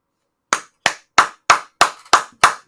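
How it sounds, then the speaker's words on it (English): Seven sharp, evenly spaced hand claps from a single person, close and crisp, each with a short decay and silence between them, no voices. "I had to give her applause"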